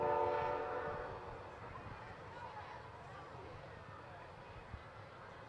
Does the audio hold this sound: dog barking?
no